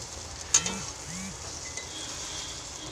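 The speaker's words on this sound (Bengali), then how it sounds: "আলুটাকে বেশ ভালো করে লাল করে ভেজে নেব" Potato pieces fry in hot oil in a home kitchen, giving a soft continuous sizzle with a sharp clink and a few stirring scrapes early on, fairly quiet and with no talk.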